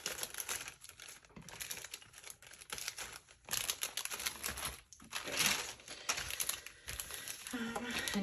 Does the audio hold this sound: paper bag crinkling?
yes